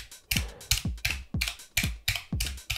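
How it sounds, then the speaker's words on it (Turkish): Crystal blue-switch mechanical keyboard from the Rampage RGB line, its keys pressed one at a time in a steady series of about eight crisp, sharp clicks close to the mic, each with a short clacky bottoming-out thud, with no talking. "İlk önce klavye sesindeki aktif anahtar sesini duyuyorsunuz. Daha sonra da tabloya değen sesi duyuyorsunuz."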